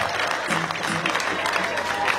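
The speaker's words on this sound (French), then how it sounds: "Merci d'applaudir pour le communiqué à langue vernaculaire." An audience at a customary wedding applauding, a steady wash of clapping from a crowd with voices mixed in, sustained and moderately loud throughout.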